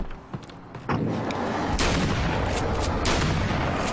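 Gunfire in the video game Alan Wake's American Nightmare: a burst of loud, close shots, several sharp cracks in quick succession over about three seconds with a sustained booming wash between them, no talk.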